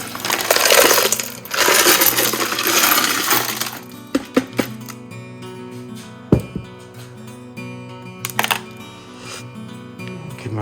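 Heavy pieces of peanut wood tipped out of a bowl, starting with a loud rattling, grinding tumble of hard pieces, then settling into separate clacks and knocks with quieter gaps between them.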